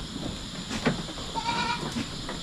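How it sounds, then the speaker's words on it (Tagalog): Goats bleat on a farm with a herd of does, a few calls rising over steady outdoor background noise, moderately close. "Katulad yan dito na marami tayong babaeng kambing."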